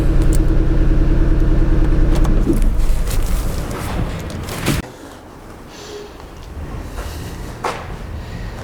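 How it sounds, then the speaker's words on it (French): A faulty Audi TT engine idles roughly on three cylinders with an ignition problem, a loud, uneven low rumble that is steady at first and then drops to a quieter, lumpy idle. "Donc vous avez entendu, elle tourne sur 3 cylindres."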